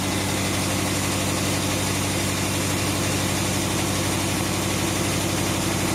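Willys truck engine idling right after a rebuild, a loud, close, steady rumble with a rapid ticking lifter noise and slight unevenness from a misfire throughout.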